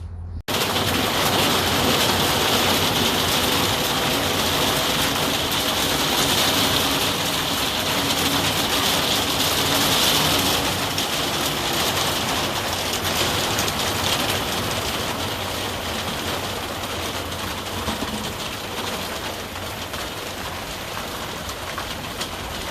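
Heavy rain pouring steadily over a tomato garden, a dense, continuous hiss that stays loud and even throughout with no voices.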